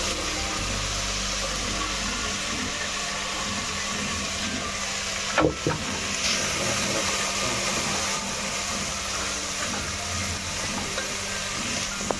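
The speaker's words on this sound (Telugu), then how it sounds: "ఇప్పుడు క్యారెట్ని వేసుకుందాం" Carrots cook in a pan of bean curry, a steady close sizzle and frying hiss with a brief clatter of stirring midway, continuing evenly without talk.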